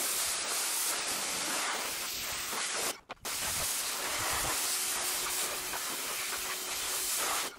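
A pressure washer sprays foam off a car in a loud, steady, close hiss, briefly cut off for a moment before resuming continuously.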